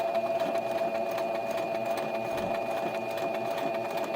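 A sewing machine stitches a sleeve, running with a steady, close mechanical whir and rapid needle chatter that holds at an even level without pause.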